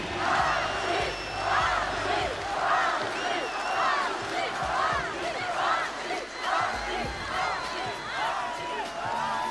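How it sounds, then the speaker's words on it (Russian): Stadium crowd at the Anzhi Arena opening cheers in rhythmic waves, roaring a repeated chant in steady pulses about once a second. The sound is broad and echoing, with whoops rising above it. "Ваши аплодисменты!"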